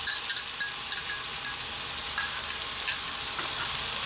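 Beaten eggs sizzle steadily in a hot pan for an Ethiopian breakfast, with light scraping and tapping of a utensil stirring them at irregular intervals.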